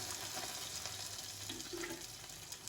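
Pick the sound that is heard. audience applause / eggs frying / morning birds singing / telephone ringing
eggs frying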